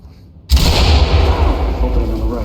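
A flashbang goes off at a doorway during a Ready or Not police raid, a sudden loud blast at half a second that leaves a sustained roaring, ringing wash filling the rest of the moment, with no voices over it.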